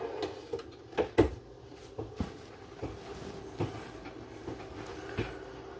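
Full-extension ball-bearing drawers in a 2024 Coachmen Apex 291TBSS travel trailer slide and bump shut several times, giving soft rolling runs and light thuds close by in a quiet interior.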